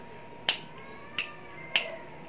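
Three crisp finger snaps spaced well apart, close and clear in a quiet room with no voices.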